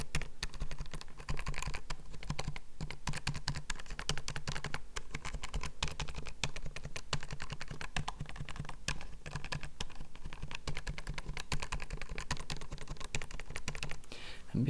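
Steady, fast typing on a computer keyboard, a dense run of close, crisp key clicks that continues without pause.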